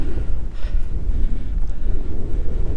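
Cold wind gusts steadily across an exposed hilltop on Hay Bluff, a loud, continuous roar buffeting the microphone with rumbling low-end blasts and no speech.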